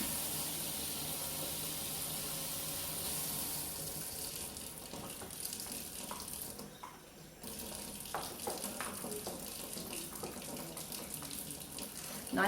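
Warm water runs steadily from a tap into a bowl of homemade fly bait, a continuous splashing hiss that dips briefly midway before resuming at full strength.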